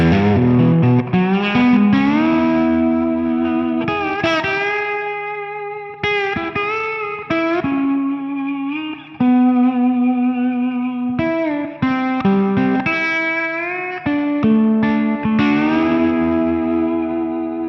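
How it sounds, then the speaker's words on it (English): Electric slide guitar with gliding notes and sustained chords, drenched in reverb and a slightly gritty tone, phrases separated by brief pauses. "Adding life and vibe to a swampy slide tone"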